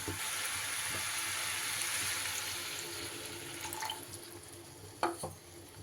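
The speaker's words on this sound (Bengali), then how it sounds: "এইবার আমি এখানে দিয়ে দেব জল" Water poured into a pan of broccoli and potato curry, a steady broad splashing rush for about three seconds that tapers off, followed by a couple of soft clinks, with no talk.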